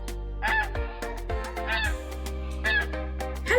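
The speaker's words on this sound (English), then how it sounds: "It's goose and baby goose or gosling." An adult goose and a gosling call in a children's animal-finding cartoon, giving a series of honking cackles in uneven bursts over soft background music, with no talk.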